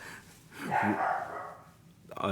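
A dog barks in a few quick bursts mixed with breathy sounds, close and moderately loud, with a voice talking over part of it.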